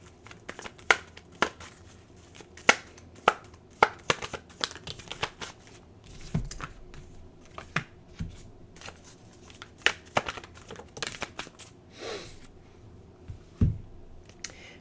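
Oracle cards shuffled and drawn by hand, a steady run of soft papery riffles, flicks and snaps close to the microphone, with short pauses between bursts and no talking.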